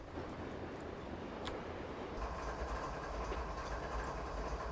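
A passing freight train in Train Simulator 2020 gives a steady rumble that grows heavier partway through, with rail rattle and clatter near and continuous.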